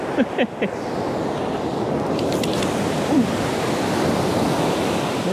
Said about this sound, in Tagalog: Medyo hinahinanay yung alon.